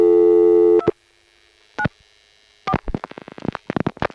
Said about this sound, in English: here is a call to Goshen 294, which has to be converted to 29